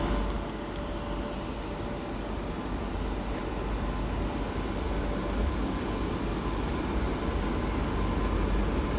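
A departing train at Lisbon Oriente Station rumbles steadily close by, a dense continuous roar of wheels and traction with a faint tonal whine, unchanging in loudness throughout with no talking.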